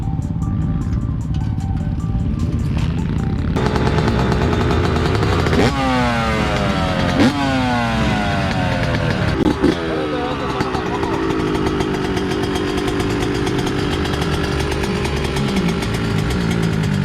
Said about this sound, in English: we're gonna ride some dirt bikes today